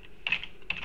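Keystrokes on a computer keyboard while text is entered in a CorelDraw flyer design, two short quick bursts of close, crisp clicks on a quiet background.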